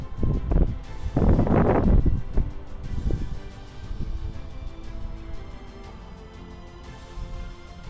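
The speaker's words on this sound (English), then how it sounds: "Super windy." Strong gusty wind buffets the microphone outdoors during a telescope and camera setup, with loud rumbling bursts early on that ease into a steadier, softer roar.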